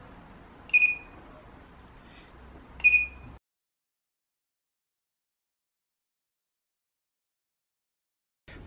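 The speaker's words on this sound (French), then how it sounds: "3 niveaux, donc 3 bips" Two short high-pitched electronic beeps about two seconds apart from a battery controller board on a solar-assisted electric velomobile, clear and close, followed by abrupt silence.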